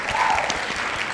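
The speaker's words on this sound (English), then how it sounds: "We'll give it a clap." A short burst of clapping from a small group at a live gaming stream, brief and fairly loud, with a little crowd murmur.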